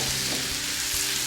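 Octopus tentacles fry in a pan, a soft continuous sizzle with faint pops, brief and close, no speech.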